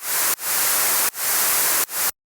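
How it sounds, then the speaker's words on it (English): A white noise synth layer in an EDM drop blended with rock: three loud, bright hiss bursts that each swell back in after a short dip, then cut off abruptly into silence. "and then I have a white noise layer."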